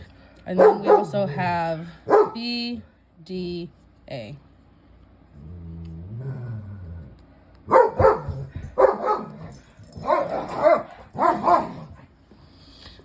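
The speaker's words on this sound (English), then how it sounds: "Excuse my dogs in the background if you can hear them." Dogs bark in short bursts in the background while a person speaks over them, the barks sharp and fairly close.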